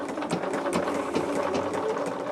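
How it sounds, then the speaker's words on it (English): A sewing machine stitches steadily along the diagonal of a quilt block, its fast, even mechanical whir running continuously at close range with no voices. "So now all we're doing is sewing on this diagonal to make our pedestals"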